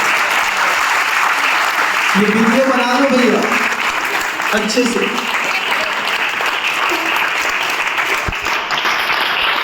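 A crowd at a gathering claps with raised hands, steady and loud throughout, while a voice speaks briefly over the applause.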